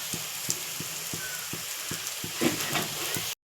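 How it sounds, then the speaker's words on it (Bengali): Cumin, turmeric and chilli powder fry with onion, ginger and garlic in a pan, a steady close sizzle broken by regular scraping strokes of a spoon stirring, about three per second. "জিরে গুঁড়ো দিয়েছি, হলুদ গুঁড়ো আর ঝালের গুঁড়ো দিয়ে আমি ভালো করে মিক্স করে নেব"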